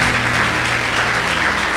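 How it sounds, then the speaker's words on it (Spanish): Church congregation claps together in a dense, steady burst of applause that continues evenly through the whole short stretch, with no talk over it. "denle el aplauso"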